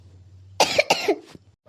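A person coughs in a quick burst of two harsh, close coughs followed by a small throat sound, against a faint steady hum.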